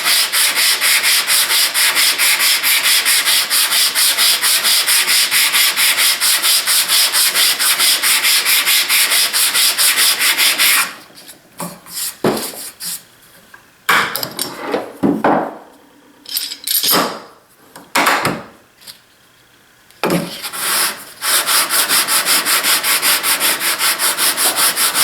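Sandpaper rubs rapidly back and forth on wood in a fast, even scratching rhythm for about ten seconds, then pauses for scattered handling knocks before the steady sanding resumes, loud and close.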